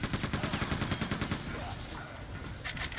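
Rapid instant-hit weapon fire in Quake II clatters in a quick, regular stream of shots for the first half, then fades into quieter rumble.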